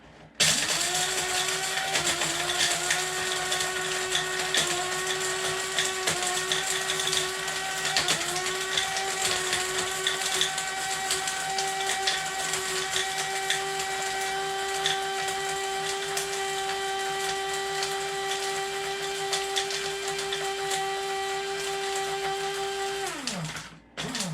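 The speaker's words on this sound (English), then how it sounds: "I like to use my coffee grinder because it gets it pretty fine" A small electric coffee grinder grinds dried garlic, whirring loudly and steadily for over twenty seconds, its pitch dipping briefly a few times before it winds down at the end.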